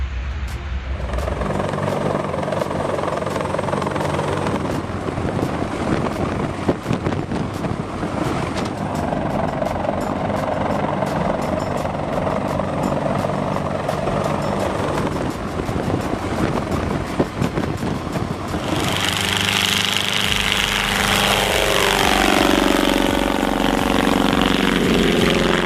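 A C-130H Hercules turboprop aircraft flies at an air show, giving a loud, steady propeller drone that lasts throughout. The tone shifts near the end as the aircraft passes.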